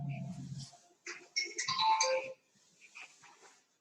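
A mobile phone ringtone interrupts a classroom lecture, a bright electronic melody of rising tones played once up close, with a fainter repeat trailing after it.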